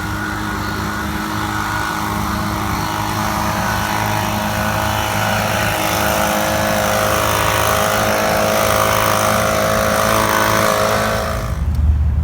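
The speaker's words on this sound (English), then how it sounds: "I'm going to use the blower to clean them." A leaf blower cleans the pavement along existing parking stall lines, running steadily and loudly at close range with a droning engine hum throughout, no talking.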